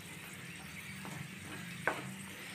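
Payasam ingredients frying in ghee give a steady soft sizzle with faint stirring, one brief utensil tap near the end, and no voices.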